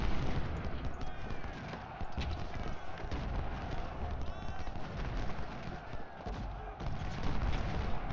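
Rolling musket volleys crackle continuously from Civil War infantry lines in the Ultimate General Civil War video game, dense overlapping gunfire with deep artillery-like booms, steady and sustained throughout.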